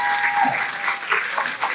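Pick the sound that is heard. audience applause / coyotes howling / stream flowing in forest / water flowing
audience applause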